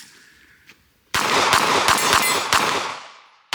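A premium pistol fired in quick succession outdoors, a rapid string of five or six sharp, loud cracks spaced roughly half a second apart, each trailing into a broad ringing echo that slowly fades.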